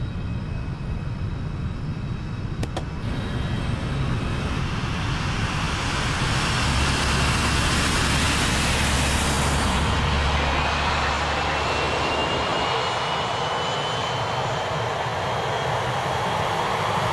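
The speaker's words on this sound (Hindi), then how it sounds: "Checklist starting engine number 1." An aircraft engine starting up in an action movie scene: a loud, steady broadband roar that swells into a rising whine and holds, close and continuous, with no talk over it.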